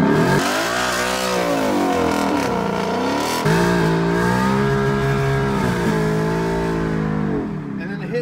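A 2018-2022 Ford Mustang GT doing a line lock burnout, its engine revving loudly and steadily with pitch sweeping up and down, then settling into a sustained high roar before easing slightly at the end.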